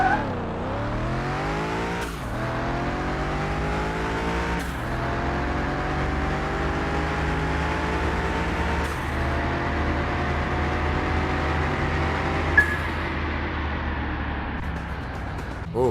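Renault Clio V6 racing in Car Mechanic Simulator 2021, its engine revving steadily upward through several gear changes, each shift dropping the pitch before it climbs again, loud and continuous with no talking.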